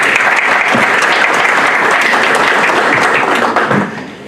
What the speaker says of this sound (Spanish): Lo recibimos con un voto de aplausos